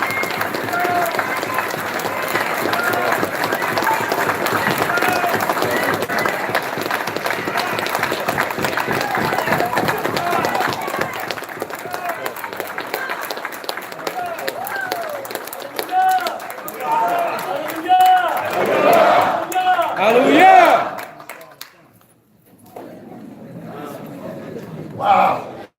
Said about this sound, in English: give a round of applause for Prince Ram Ben